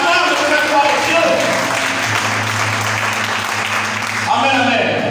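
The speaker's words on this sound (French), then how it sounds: "Est-ce que tu peux acclamer très fort?" A church congregation at a French-language service claps and cheers loudly for God, a steady dense applause throughout with voices and a leader's speech over it.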